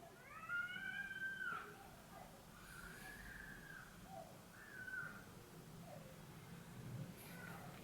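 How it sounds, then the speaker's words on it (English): A child cries outside a window, heard faint and distant as a few drawn-out wailing cries over a quiet, hissy background. "there's a kid crying outside my window"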